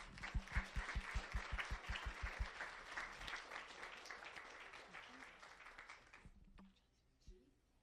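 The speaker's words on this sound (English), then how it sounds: "join me in a round of applause" Loud applause from a crowd fills a meeting room, with rhythmic clapping and some cheering voices, then fades to scattered claps.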